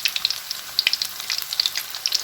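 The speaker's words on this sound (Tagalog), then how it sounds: "Prito nyo lang siya guys." Vegetables frying in a pan for veggie fried rice over a low flame, a steady crackling sizzle of sharp pops with no talk.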